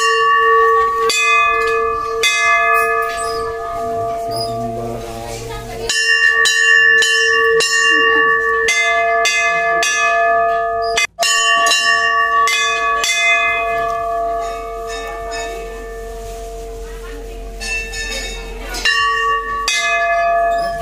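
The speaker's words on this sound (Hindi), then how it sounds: "एंट्री में घंटी बजाएंगे" A metal bell at the entrance of a Hindu Shiva temple rings repeatedly and loudly up close, its bright, sustained tones overlapping and decaying between strikes across about twenty seconds.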